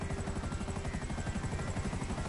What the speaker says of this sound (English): land the helicopter on land